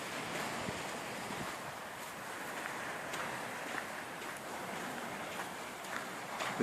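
Ocean waves wash and break steadily along a beach shoreline below cliffs, a continuous broad roar of surf with some wind noise on the microphone and no talking.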